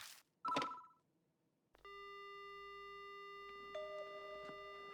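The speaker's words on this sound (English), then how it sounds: "The only sound I hear is the dial tone." In the video game Spirit Hunter: Death Mark, after a short burst of noise and a pause, a steady telephone dial tone hums on continuously, with a few faint clicks over it.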